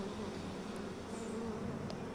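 Buzzing bee swarm from the bee plasmid in BioShock Remastered, a steady droning hum that holds at even level throughout, with a couple of brief higher chirps over it.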